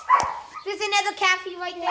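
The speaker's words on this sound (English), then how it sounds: "Oh, sorry about the dog." A dog on a farm barks and yips a few times close by, while a person talks over it in a breezy outdoor setting.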